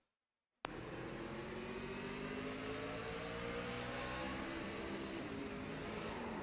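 A race truck engine in a racing video game bursts in loud after a short silence and holds a steady, harsh drone with shifting pitch, like a downshift under load.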